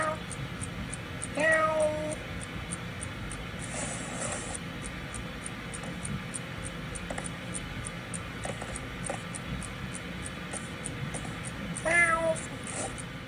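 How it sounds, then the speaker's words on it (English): A domestic cat meows for food, with a couple of distinct rising meows several seconds apart over a steady low background hum and scattered small clicks. "meowing"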